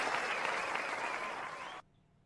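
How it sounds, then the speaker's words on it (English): Round of applause from a crowd, steady dense clapping at moderate level that cuts off abruptly near the end, leaving quiet. "you gotta give him a round of applause too"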